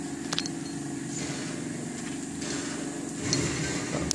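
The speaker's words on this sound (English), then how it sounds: "Yeah, we find a floating car on Dead Island." A car in the video game Dead Island, caught in a floating-car glitch, its engine humming steadily at moderate level with scattered sharp knocks and clatters layered on top.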